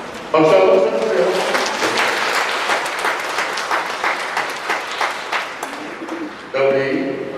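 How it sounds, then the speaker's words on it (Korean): Steady applause from a church congregation at a pastor's installation service, dense clapping that rises quickly, holds for several seconds, then fades, with brief voices or a tone at the start and end. "박수 한번 쳐주세요."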